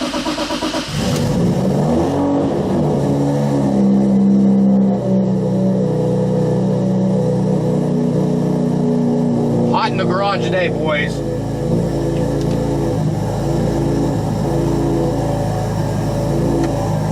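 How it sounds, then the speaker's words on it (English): Turbocharged car engine revving in a hot home garage, a loud close rumble rising and falling through several revs with turbo whine, while someone talks over it. "Listen to that turbo."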